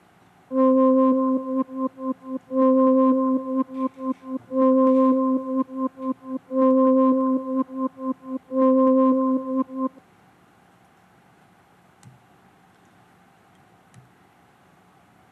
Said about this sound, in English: passing in a sort of low frequency oscillator for a sine wave into the frequency of a low pass filter